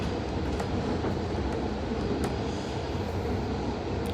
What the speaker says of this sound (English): We're recording the train.